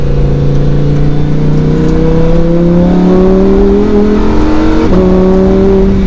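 Lamborghini Huracan EVO RWD in Corsa mode, its exhaust revving loud and close, pitch climbing steadily through the gears with a brief drop near the end before rising again.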